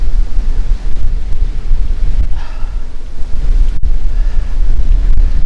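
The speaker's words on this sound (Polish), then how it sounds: "Ładnie wieje. Oczywiście w twarz." Strong wind buffets the microphone of a cyclist riding into a headwind on an autumn road, a steady loud rumbling roar with a few brief gusts and thumps.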